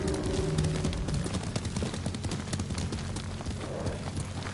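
A horse gallops in Ghost of Tsushima, rapid steady hoofbeats pounding close and loud across the ground, with a faint voice briefly underneath.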